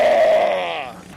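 A human voice imitates a Victory motorcycle engine with a short, drawn-out, bleat-like drone that sags in pitch and fades over about a second.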